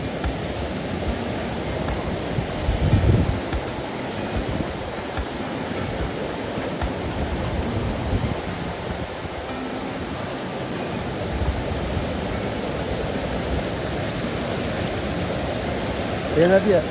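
Kolapathana Ella waterfall in the hills of Sri Lanka gives a steady, broad rushing roar of falling water that stays constant throughout, loud and unbroken.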